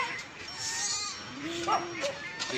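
A goat bleats a couple of times nearby, short wavering calls over faint background noise.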